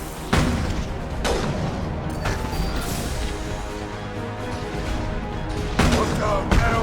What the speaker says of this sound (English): Concussive shock!